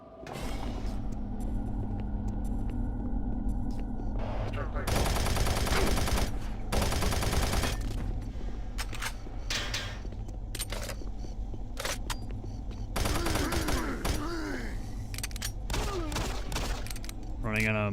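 Rapid automatic gunfire from a machine gun in the Doom 3 video game, played on the original Xbox, with several loud sustained bursts standing out over a continuous droning game soundscape and scattered mechanical clanks.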